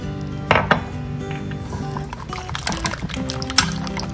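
Water and soba tsuyu base being stirred together in a bowl, with clinking utensil strikes against dishware and light sloshing of liquid, close up and without speech.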